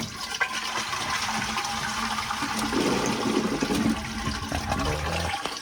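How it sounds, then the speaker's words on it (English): A toilet cistern drains steadily during a plumbing repair, with a continuous rushing, gurgling flow of water that is close and fills the whole clip. "Get this cistern drained down."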